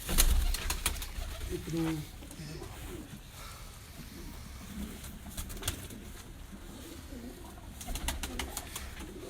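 Pure-bred breeder pigeons in a Lahore loft give soft, low cooing murmurs, faint and intermittent under a voice counting aloud and background hum, with a brief flutter near the start.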